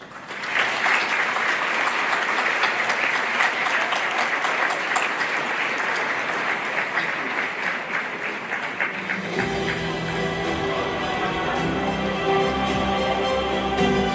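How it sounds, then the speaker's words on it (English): Sustained applause from a gala crowd at the Armenian American Museum in Los Angeles, dense clapping that carries for several seconds before music and crowd murmur take over. "Let's give them a hand of applause."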